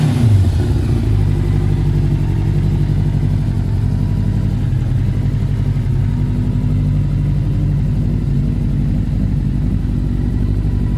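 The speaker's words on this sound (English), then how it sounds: "I mean, it sounds amazing. Listen to this exhaust." A 1000cc Yamaha Thunderace YZF1000 sport motorcycle runs through its exhaust with a loud, close, steady rumbling idle and revs, holding low and continuous for about eleven seconds.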